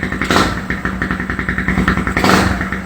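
Motorcycle fitted with an Apido V4 silent killer exhaust pipe idling close by, a steady loud low rumble with rapid even pulses and two brief swells of throttle, no talking over it.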